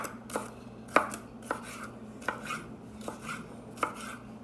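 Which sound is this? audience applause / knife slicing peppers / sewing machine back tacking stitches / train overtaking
knife slicing peppers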